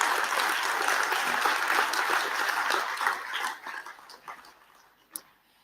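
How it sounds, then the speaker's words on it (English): A plenary audience applauds NomCom members: a dense, steady round of clapping from a large crowd in a hall that thins out and fades, ending with a last stray clap. "please give these folks a round of applause as well."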